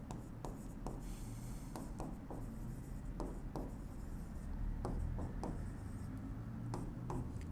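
A pen writes figures by hand on paper, making quiet, steady scratching strokes with small taps between numbers. The sound stays faint and close, with no talking.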